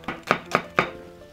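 Several sharp knife chops through an onion on a cutting board in a quick, even rhythm, close by, then trailing off.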